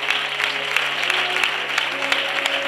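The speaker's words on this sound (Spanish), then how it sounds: "Dale un aplauso al Señor," Church congregation applauding during a baptism service, a brief steady wash of many hands clapping with a low hum underneath.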